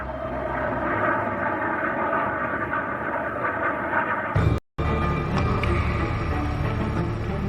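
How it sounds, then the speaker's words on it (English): Royal passenger plane at Aberdeen Airport: a steady, loud broadband engine roar fills the scene, briefly cut by a sharp dropout before resuming just as strongly. "Princes Charles, William and Harry boarded the royal plane at Aberdeen Airport"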